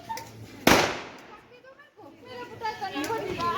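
A single sharp firecracker bang goes off nearby during a Diwali celebration in a village, followed by children's chatter and voices talking over the scene.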